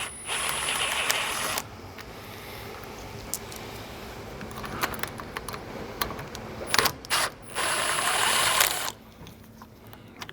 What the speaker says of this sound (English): now I'm gonna swap the OE diverter valve for his Turbo Smart.